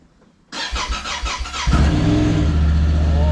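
A Honda Talon 1000R off-road vehicle engine cranks briefly, then catches and roars to life, settling into a loud, rumbling run close by.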